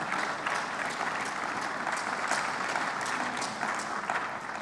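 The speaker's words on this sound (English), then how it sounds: "I thought you'd give us a clap, a very big clap for that." Conference audience at a pan-African summit applauding steadily, a dense, even wash of many hands clapping at moderate distance that holds without a break.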